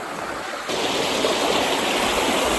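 A waterfall and forest stream roar steadily nearby, a dense, even rush of flowing water that grows slightly louder partway through.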